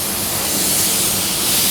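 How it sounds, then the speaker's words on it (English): Compressed air is blown lightly across a car body panel beneath a tack rag before clear coat, a steady, close, continuous hiss that holds level throughout with no talk. "So just give it a light blow, get the air working under the tack rag."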